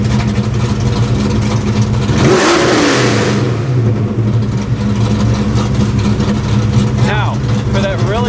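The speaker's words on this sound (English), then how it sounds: "for that really low idle, because this has got a super chop cam in it, sounds really good" A Foxbody car with a choppy cam idles low and lumpy throughout, with a loud rev-like burst partway through. The rough, pulsing idle carries on steadily afterward.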